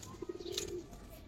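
Giribaz pigeons, army and silver breeds with a black-necked bird among them, give a short burst of soft, low cooing, a few close pulses that are clear and unaccompanied by talk, then fade into light background noise.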